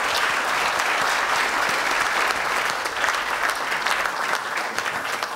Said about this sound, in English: Please give a big round of applause for Nicole Whiteman.